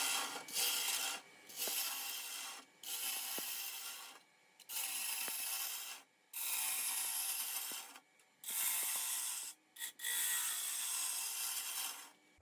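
A wood turning tool cuts wet wood on a lathe, producing long bursts of bright, hissing scraping broken by short pauses, steady and close, with no speech.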